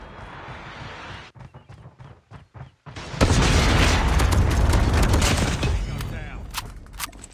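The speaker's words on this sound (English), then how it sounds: "Predator missile inbound." A Predator missile strikes in Call of Duty Mobile, a sudden loud, close blast that swells into a long roaring rumble of debris and gunfire after a few sparse clicks and quieter moments, with faint talk mixed in.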